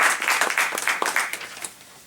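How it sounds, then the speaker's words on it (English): Audience applause at a Gemara ceremony: a steady burst of many hands clapping, dense and fairly close, fading slightly toward the end, with no talk over it. "We can give all of these people a nice round of applause."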